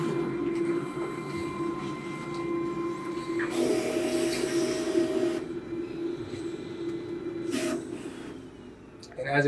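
A Mimaki CJV330 wide-format printer-cutter whirs and hums steadily up close as it checks the positions of its pinch rollers, with a louder mechanical burst midway and brief clicks.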